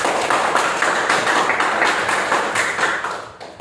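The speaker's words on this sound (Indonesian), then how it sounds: "Berikan aplaus" Applause from a classroom of students, dense continuous clapping close by and loud throughout, tapering slightly at the end.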